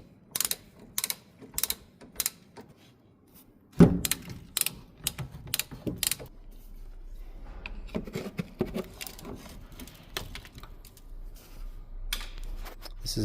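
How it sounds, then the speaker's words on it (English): Ratcheting clicks and metallic clanks come close up while the rear brake caliper is removed from a 2007–2011 Kia Picanto, bursts of rapid ratchet strokes followed by a knock and scattered tool rattles. "First I'm gonna remove the brake caliper."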